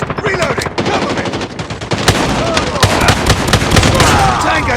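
Rapid gunfire from the Striker shotgun in Call of Duty Mobile, loud and close, a dense run of blasts with combat effects and in-game voice callouts mixed in.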